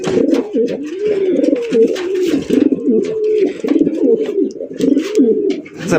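Several pigeons coo continuously and close by, with overlapping throaty, rolling calls. The birds include racing pigeons and thick-beaked, long-necked fancy pigeons of a Baghdad type.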